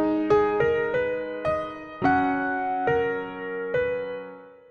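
A gentle grand piano phrase of about nine notes and chords from a software plugin on microphone setting C, sustained and overlapping, moderately loud with a soft, roomy decay; no speech.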